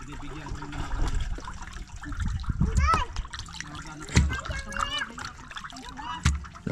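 Fish being rinsed in water before cooking into paksiw, with splashing, trickling and sloshing as hands work the fish, while people talk intermittently over it nearby.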